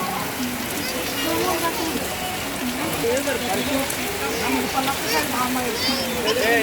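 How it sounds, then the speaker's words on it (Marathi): Heavy rain pours down steadily in Kolhapur near the Mahalakshmi temple, a dense continuous hiss of drops on surfaces, with people talking underneath throughout. "अर्धा तास पाऊस झोडपून काढला बघा"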